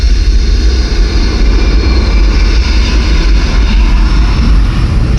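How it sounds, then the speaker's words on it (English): A jet engine roars with a loud, continuous low rumble and a steady airy hiss on top, played through a 12-channel IMAX laser theatre sound system, alone with no voices. "We can take you from a pin drop to the thunder of a jet engine."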